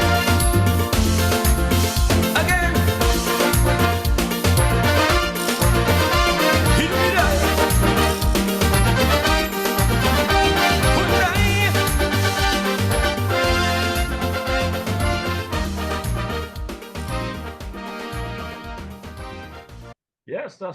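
A full, dense song plays over radio, with steady beat and vocals throughout, ending abruptly near the close.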